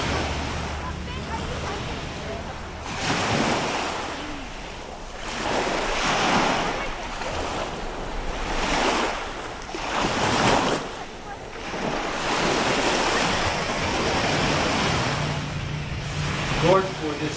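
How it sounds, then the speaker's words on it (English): Ocean waves rolling in and breaking on the shore, with several loud surges a few seconds apart, each washing back out, under steady wind buffeting the microphone. "listen to the beautiful waves meeting the shore"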